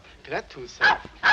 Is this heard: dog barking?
yes